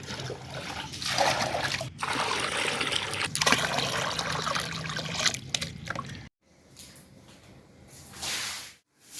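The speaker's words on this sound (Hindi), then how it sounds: "वहाँ से पानी आ रहा है" Water trickles and splashes steadily as a floor wiper pushes it across a room floor being washed. It holds for about six seconds, then drops to a fainter dribble with brief gaps.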